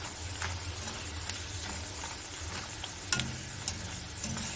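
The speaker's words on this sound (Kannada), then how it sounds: "ಸಂಡಿಗೆನ ಎಣ್ಣೆಯಲ್ಲಿ ಹಾಕ್ಕೊಂಡು ಕರೆದು ತಗೊಳ್ತೀನಿ" Rice flour sandige papads fry in hot oil, producing a continuous soft crackling sizzle with scattered sharper pops and occasional utensil clicks, close and steady throughout.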